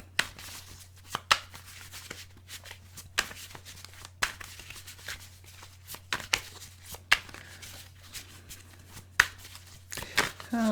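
Tarot cards being shuffled by hand, a series of quiet, crisp riffling bursts and soft slaps repeating irregularly every second or so, close and faint over a low steady hum.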